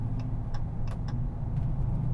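The engine of a 2022 Dodge Charger R/T idles low and steady just after a cold start. The rumble is close and continuous, with a few faint ticks over it and no talk.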